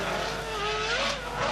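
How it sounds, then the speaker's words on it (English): A race car speeds past on Rotterdam city streets at a showcase event, its high engine whine rising and falling in a quick pass, loud and close, with no talk. "Some of the fastest cars in the world were driven through the streets of Rotterdam recently"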